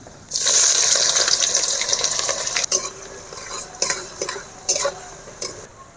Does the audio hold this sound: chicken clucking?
no